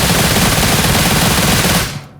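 Rapid automatic gunfire in the mobile battle-royale game PUBG Mobile, a loud continuous burst of shots that cuts off near the end, with no talking.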